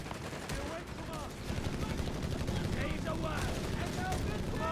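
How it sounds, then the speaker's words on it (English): Heavy machine guns rattle in the World War II strategy game Company of Heroes 3, sustained bursts of gunfire and battle noise that run throughout, under a commentator's steady talk. "Covering both here, heavy machine gun fire."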